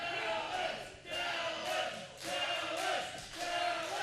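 A wrestling crowd cheers for Murdock at an independent show, a loud, dense roar of voices swelling and dipping in waves, filling the arena continuously.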